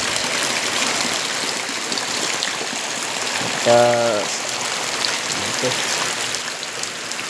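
Heavy rain pours down continuously in a rural provincial setting, a loud, even roar of drops with a brief spoken word partway through.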